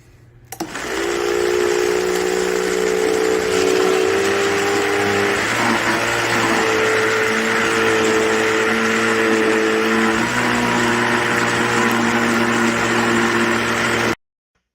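An ice cream maker churns a batch with Heath toffee and almonds, its motor starting abruptly and then whining steadily for over ten seconds with shifts in pitch before cutting off sharply.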